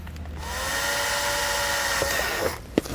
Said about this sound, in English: we'll drill out that hole